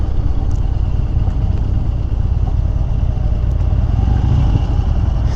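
Harley-Davidson motorcycle rolling into a bike night gathering at a dealership, a steady low engine rumble throughout, close and loud, with no talk.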